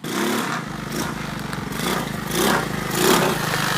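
An $80 go-kart's small engine runs on E85, a buzzing, rattly drone that rises and falls slightly in pitch as the throttle shifts, close and continuous, with no talking.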